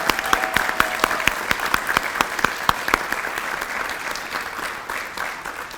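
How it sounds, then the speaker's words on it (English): Audience applause at a hall of fame induction ceremony: sharp individual claps stand out near the start, then merge into a dense, sustained clapping that gradually softens over about six seconds. "let's give them a round of applause"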